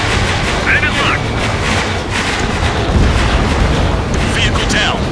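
Missile explosions and gunfire booms in the Ace Combat 7 flight combat game, a dense, continuous barrage of loud blasts with layered radio chatter and electronic beeps throughout.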